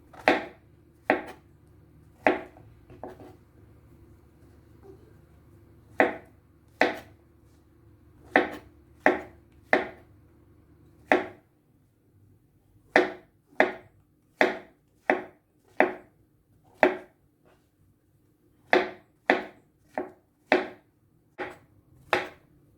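A knife slices white button mushrooms thin on a cutting board, producing sharp, distinct chops in uneven bursts of several strokes, separated by brief pauses, close and clear.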